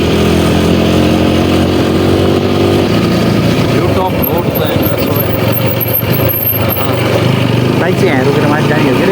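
A motorcycle idles on the road up to Sarangkot near Pokhara with a steady, close engine drone throughout, while voices chatter over it in the second half.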